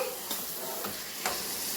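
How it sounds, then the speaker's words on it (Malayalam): Onions sizzle and crackle steadily in a hot pan, with a few soft scrapes of stirring punctuating the frying hiss. "സവാള വറുത്തതാണ്"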